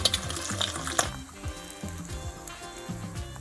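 Eggs fry in a pan with a soft, continuous sizzle and crackle, close up and fairly quiet, broken by faint clicks and small bubbling pops, with no one talking.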